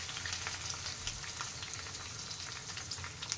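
Cumin seeds, about fifteen dried red chillies and four peeled garlic cloves fry in hot oil, making a soft, continuous crackle and spatter that stays fairly faint and even throughout.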